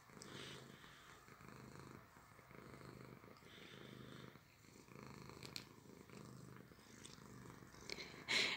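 A house cat purring softly and close by, a steady low rumbling hum that pulses in slow rhythmic cycles with no voices over it.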